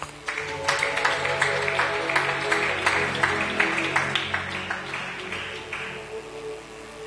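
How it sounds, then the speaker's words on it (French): A church congregation claps together in a steady, fairly fast rhythm, with moderately loud, even applause that fades out toward the end. "on acclame les Saintes Écritures"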